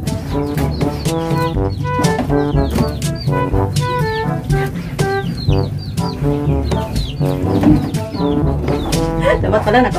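Several chickens cluck and squawk close by in a busy, overlapping chorus, with sharp cackles breaking through the constant chatter.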